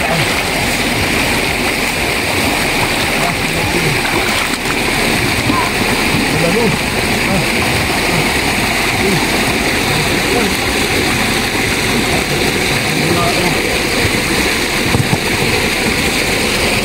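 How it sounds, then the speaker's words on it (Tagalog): Fast-flowing water in a cold stream at Mayana, Barili rushes and splashes in a loud, continuous, close-up wash, with people talking over it. "Ang agon ng tubig guys."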